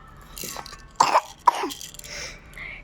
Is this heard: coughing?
yes